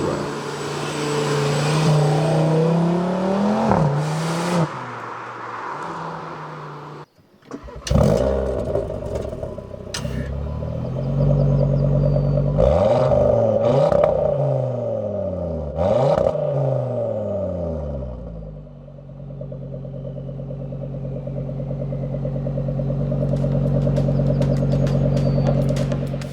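A Cupra Formentor VZ5 with a five-cylinder engine idles, then revs repeatedly in loud rising sweeps, settling back to a steady rumble between blips, close and alone.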